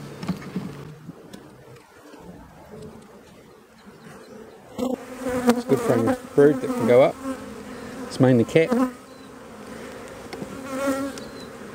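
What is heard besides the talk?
honeybees buzzing at open hive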